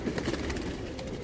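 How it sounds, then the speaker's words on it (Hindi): Pigeons in a loft housing black Madrasi breeding pairs give soft, continuous cooing and low murmuring, with steady background bird noise throughout the short stretch. "एक कबूतर वैसे ही निकल गया है अभी"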